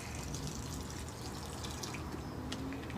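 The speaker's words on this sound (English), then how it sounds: "and we're just going to water it in." Water poured onto freshly cut-back potted plants being brought in for overwintering, a steady close splashing trickle that runs the whole time with no talking.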